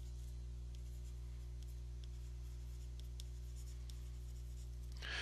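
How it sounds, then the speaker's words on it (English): A pen or marker writes a curly bracket, faint brief scratching strokes over a steady low electrical hum in a quiet room. "So I write this curly bracket to mean the set of all."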